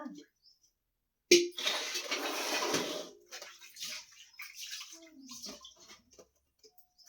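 Dishes are washed under running water, a close splashing gush for about two seconds, then quieter intermittent trickles and clinks, with a voice murmuring nearby.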